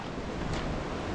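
Swift, slightly dirty river rushing at a crossing, a steady broadband wash of flowing water with wind buffeting the microphone, loud and continuous with no talking.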